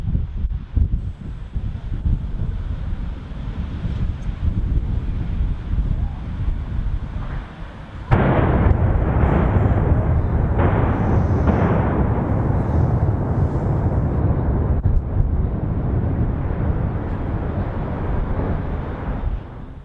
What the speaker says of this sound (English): we're going to start the stopwatch just as we see the demolition explosives fire